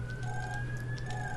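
Police sirens wailing outside, a steady high wavering tone held throughout, faint and distant under a low background hum, with no one talking.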